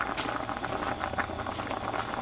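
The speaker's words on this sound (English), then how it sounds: "these have been boiling away nicely" Macaroni boils in a pot of water on a stovetop, giving a steady, close bubbling and churning patter with no talking.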